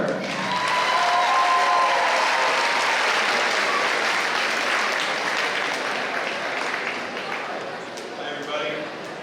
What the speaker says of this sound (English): I want you guys to give a huge round of applause for one of our very best sponsors, Nate Van Busker